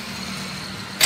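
A John Deere 5036 D 36 HP tractor engine runs at a steady idle with an even, droning hum, close by and with no talk.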